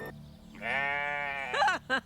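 Goat in the video game Stillness of the Wind bleating once in a drawn-out, wavering cry, followed by two short higher bleats, close and clear with no talk.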